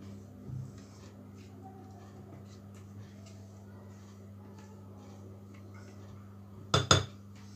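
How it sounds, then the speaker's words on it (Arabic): A frying pan for semolina pancakes handled and set down to heat, giving one sharp metallic clank near the end over a quiet kitchen hum, with a softer knock earlier. "غندير المقله دابا تسخن"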